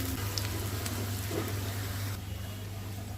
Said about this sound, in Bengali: আমি লোহার কড়াই একটু পেঁয়াজ ভেজে নিচ্ছি